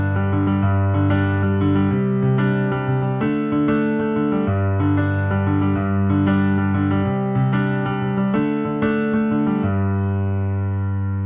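A piano plays the intro riff of a song: steady, evenly paced sustained notes and chords ringing clearly and alone for about eleven seconds, then fading at the end.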